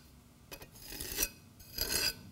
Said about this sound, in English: That's the way we normally finish a repair, scraping